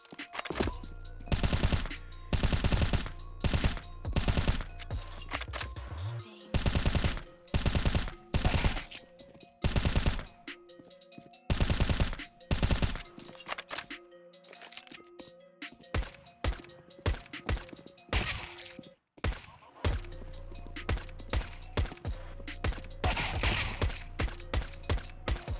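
Rapid rifle gunfire in CS:GO with unlimited ammo turned on: long, loud automatic bursts and quick clusters of shots, almost continuous, with brief pauses between strings of fire.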